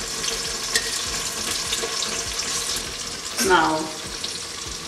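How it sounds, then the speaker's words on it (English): Onion frying in oil in a home kitchen, a steady crackling sizzle throughout with a brief louder watery burst midway, close and moderately loud, with a single spoken word. "Oil is almost ready. We fried onion."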